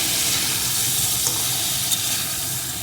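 Beans and potato curry being sautéed and stirred in a pan, producing a dense continuous sizzling hiss with one or two faint scrapes.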